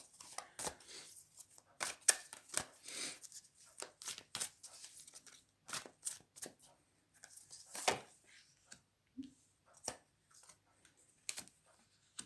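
Tarot cards being shuffled and handled, a series of quick riffling bursts and soft taps with pauses between, close and fairly quiet.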